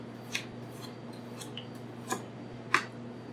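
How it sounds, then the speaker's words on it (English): A Bob Kramer Essential Series 10-inch chef knife cuts through a raw potato in a few sparse, faint crisp slices with gaps between them over a low background hum, with no voices. "We're going to check to see how it handles the starchiness and denseness of the potato."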